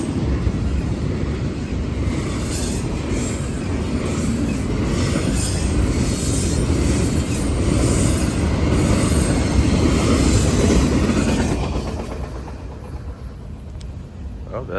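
Norfolk Southern freight train 24X rolling past northbound, a steady loud roar of wheels and rail noise with faint squeal, fading toward the end as it clears.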